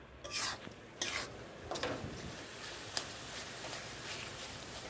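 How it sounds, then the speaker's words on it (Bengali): Coconut filling is stirred in a pan over low heat, giving soft, irregular scraping and clinking strokes that come close but quiet, with a faint sizzle underneath. "এটাকে আস্তে আস্তে নেড়ে নিতে হবে"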